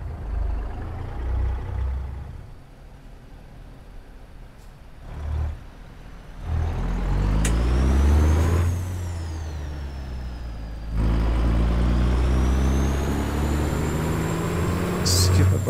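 Truck engine in American Truck Simulator, a Peterbilt 389, revving and dropping as it shifts through gears on the Pacific Coast Highway, with loud rising engine pulls, a brief air hiss, and talk over it.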